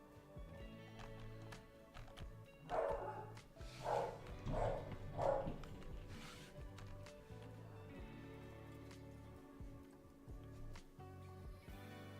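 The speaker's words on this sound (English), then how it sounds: "she's barking at the door" A dog barks at a door upstairs, a handful of muffled, distant barks spaced a second or so apart, faint beneath steady background music.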